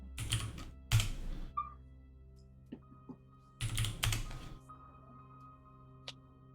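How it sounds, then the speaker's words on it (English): Short bursts of rapid keyboard typing, clicking quickly, then pausing, with a few isolated key taps scattered in between. "You keep typing it in"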